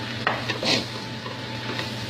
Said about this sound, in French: Et je mélange. Sauter à peu près pendant 3-4 minutes